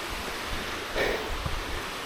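A woodland waterfall running beside a steep stone path, a continuous broad hiss of falling water that stays fairly loud and even throughout, with no talking.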